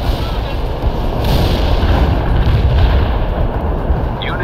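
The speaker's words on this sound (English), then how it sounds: "Heavy artillery. Firing at coordinates." Heavy artillery fire in the wartime strategy game World in Conflict, a continuous loud rumbling barrage of booms with no clear gaps, dense low-end thunder sustained throughout.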